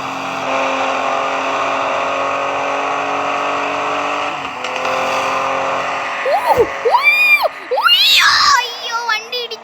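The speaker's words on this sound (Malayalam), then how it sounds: "അയ്യോ വണ്ടി ഇടിച്ചു ഗൈസ്" Car crash in a traffic racing game set in a Russian village: a steady engine drone runs for several seconds, then breaks off abruptly into jolts and sharp squealing sweeps, with faint voices in the background.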